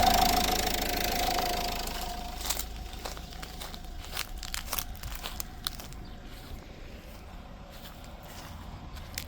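A car engine idles steadily with a low rumble, overlaid by scattered clicks and crinkling knocks that grow more frequent.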